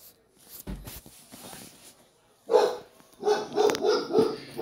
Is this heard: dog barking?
yes